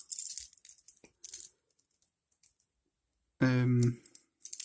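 Metal lock keys from a collection, including pin-tumbler and lever types, clink and jingle sharply in two brief close bursts as they are handled. A short voiced hum follows, then a final faint rattle.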